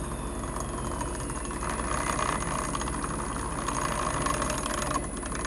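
Milling machine motor driven by a VFD at reduced RPM, giving a steady, loud droning hum with a constant electrical whine and faint rattling, unbroken throughout.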